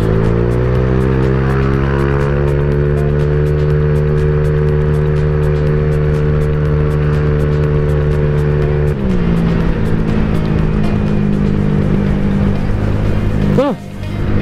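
A motorcycle fitted with a copy CMS aftermarket exhaust holds a loud, steady rev close by, its note dipping partway through before a final quick blip, with a voice talking over it.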